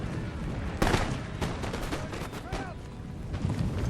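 Musket volleys crackle across a Napoleonic battlefield in Total War: Napoleon, with ragged bursts of overlapping shots and sharper cracks over a constant rumble of battle noise.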